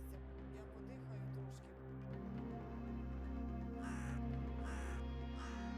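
A crow caws several times from a distance, harsh calls over a steady low hum.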